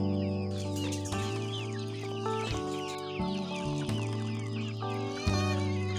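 Chickens on a countryside farm clucking before feeding, overlapping calls and squawks over a steady tonal hum and background noise.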